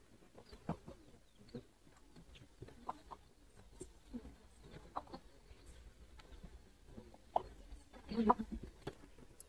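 Chickens cluck and mutter softly around a feed pot in a farmyard, with scattered short calls at irregular intervals and a small burst of louder clucking near the end; quiet overall.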